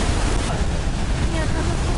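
Niagara Falls pours as a loud, dense, unbroken roar of rushing water and spray, steady and close with no pauses.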